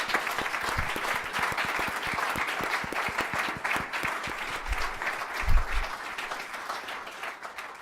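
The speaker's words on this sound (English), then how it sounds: "Can we give them a round of applause?" Sustained audience applause at the Coach Core Awards 2022 ceremony, a dense wash of many hands clapping steadily for nearly eight seconds with a few louder claps near the end.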